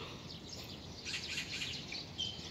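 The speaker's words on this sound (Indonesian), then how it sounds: "di daerah sini itu pedalaman yang didengar suara burung sama suara ayam" Birds chirping in rural inland countryside on a morning passion-fruit picking outing, several small tweets and calls scattered over a steady outdoor background, moderately distant with no talk.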